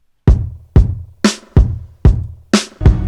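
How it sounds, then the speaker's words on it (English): An electronic kick layered onto a drum loop in a music production adds deep, booming low end, six evenly spaced heavy thumps with sharp attacks and brief decays, loud and without any voice. "I added an electronic kick to give it more oomph"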